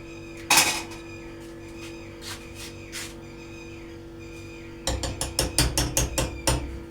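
A metal lid clanks onto a pot of simmering pumpkin curry with a sharp hit, followed later by a quick series of rattling metallic taps as it settles.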